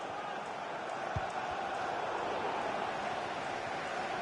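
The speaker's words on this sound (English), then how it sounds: "Well, listen to that crowd." Manchester United fans roar in a FIFA 20 football match, a dense, continuous crowd wash of cheering and chanting that fills the whole stretch at steady loudness, with a couple of dull thuds underneath.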